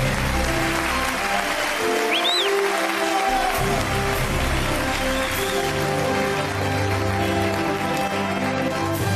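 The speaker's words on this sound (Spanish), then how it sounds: "Un aplauso para el Aquaman de la Zurriaga." An audience at the final of the El Conquistador 2021 TV contest applauds in a dense, steady wash of clapping that holds for the whole stretch without talk.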